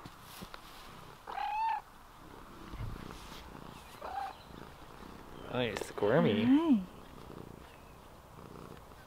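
A house cat on an off-grid homestead purring softly in short bursts near the microphone, with brief meows and a voice talking over it amid quiet outdoor ambience.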